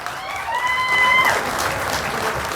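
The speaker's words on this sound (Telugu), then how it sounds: "నిలబడి చప్పట్లు కొట్టాలి అందరూ" A standing audience at a folk song event claps together in a dense, steady burst, with a sustained whistling tone rising above it for the first second or so before the applause carries on alone.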